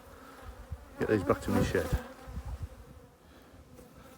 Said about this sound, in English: let the bees drift off